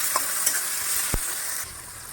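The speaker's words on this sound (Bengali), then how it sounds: "যতক্ষণ না হচ্ছে ততক্ষণ নাড়াচাড়া করতে হবে।" Onions and tomatoes fry in a pan while being stirred, giving a continuous hiss of sizzling oil with a few scraping knocks from the utensil, heard up close with no talking.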